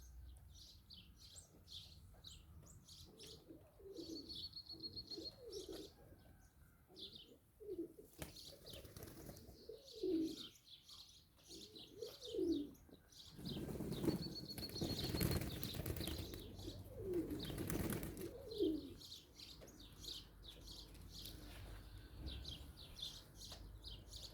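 Soft wing flaps and feather rustling from pigeons fluffing and drying their feathers after bathing, with gentle cooing and faint chirps scattered throughout, steady and close.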